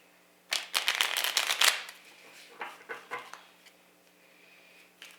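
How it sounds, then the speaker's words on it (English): Tarot cards are shuffled by hand in a quiet room: a loud run of quick, crisp riffling bursts, then a few softer, scattered shuffles and one last short flick, with no talking. "Let me actually reshuffle these before we"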